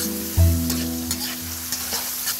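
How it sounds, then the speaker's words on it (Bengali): Onions and whole garlic cloves fry in a pan for chicken bhuna khichuri, a steady close sizzle broken by a few scraping stirs against the pan, with no voices. "এবার ভালো করে ভেজে নিচ্ছি বন্ধুরা"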